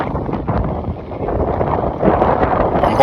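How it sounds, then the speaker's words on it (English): Gusty wind buffeting a microphone, rumbling low and uneven, growing stronger near the end. "I'm hoping that the wind doesn't affect the video"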